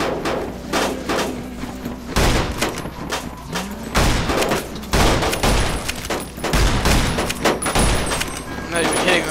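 Repeated gunshots in Fallout: New Vegas, several loud sharp bursts spaced irregularly over the stretch, with someone talking throughout and background game ambience underneath.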